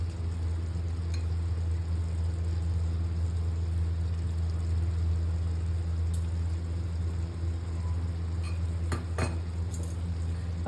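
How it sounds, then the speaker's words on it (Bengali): A spoon stirs mutton curry in a pot after yogurt is added, a steady frying sizzle and low hum throughout, with a few faint scrapes and clinks of the utensil near the end. "আর এটাকে এর মধ্যে ভালো করে নেড়ে চেড়ে নেব।"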